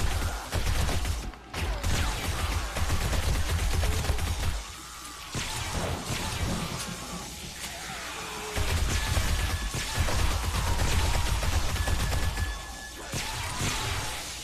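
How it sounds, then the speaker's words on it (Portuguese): Heavy gunfire in the video game 7 Days to Die, dense rapid shots and crashing impacts blending into a loud continuous barrage with brief dips and surges. "Muito tiro, cara, muito tiro."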